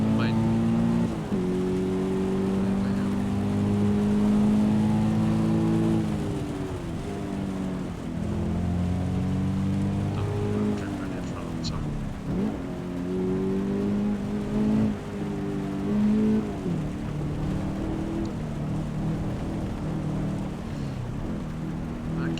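Racing car engine driving on a wet track in the video game Assetto Corsa EVO, a continuous droning engine whose pitch rises and falls through gear changes over a hiss of rain and spray.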